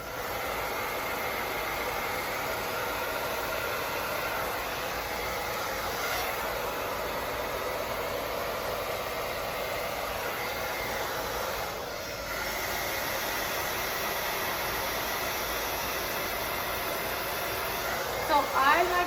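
Hair dryer blow-drying hair during a shampoo and blow-dry at a barber's station, a steady loud whirring airflow hiss held for the whole stretch, with faint talk underneath.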